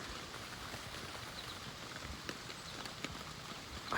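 Rain falls steadily in a dense woodland thicket during an archery deer hunt, a soft continuous patter with occasional louder drips and rustles nearby, no talking.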